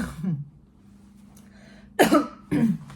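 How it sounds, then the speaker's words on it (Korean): A few short, husky coughs: one soft cough near the start, then two harsher, louder bursts close together toward the end, with quiet room tone between. "이렇게 기침하는데 뭔가 곰 소리가 나는 것 같다"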